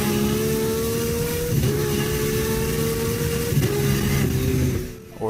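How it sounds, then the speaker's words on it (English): A high-revving car engine in Forza Horizon 5 screams up through the gears, with a few quick shift breaks in a loud, steady drone before it drops away at the end. "I like high revving cars,"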